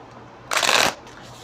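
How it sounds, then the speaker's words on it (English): A single quick riffle of tarot cards being shuffled, a crisp papery burst lasting under half a second, close by against a quiet room. "Let's shuffle this a little bit"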